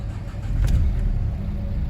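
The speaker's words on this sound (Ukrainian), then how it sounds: "Так, запускаємо двигун." A 2011 Renault Fluence engine starts up and settles into a low, rumbling idle, close and fairly loud.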